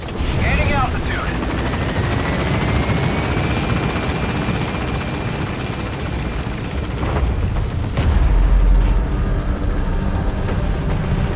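Helicopter B-Quad from the game Metal Gear Solid V thrums steadily at close range, its rotor wash a dense continuous roar with a high whine, a deep boom near the end, and radio voice over it.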